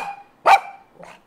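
A dog gives one loud, sharp bark close by, with quieter tonal sounds before it and a softer, shorter yelp shortly after; nobody speaks.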